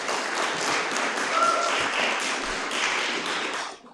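Applause from an audience at a February meeting welcoming a presenter, dense steady clapping from many hands lasting about four seconds before fading out at the end.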